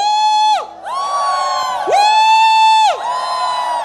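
A church congregation in an Indonesian worship service shouts "wuh" together, several loud, sustained unison vocal calls in quick succession, sounding like a crowd cheering in a reverberant hall.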